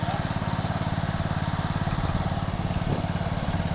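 A 2007 Craftsman 15.5HP riding lawn mower with a 42-inch cutting deck runs steadily at close range, its engine drone a continuous, even pulsing throughout.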